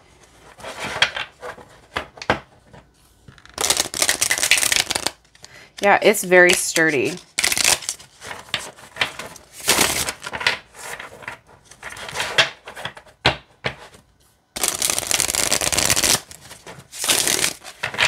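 Fortuna Tarot Opal Omen limited-edition deck, cards riffled and bridged in several loud bursts of crisp rustling and flapping, with a person talking between and over the shuffles.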